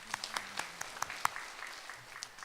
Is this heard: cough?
no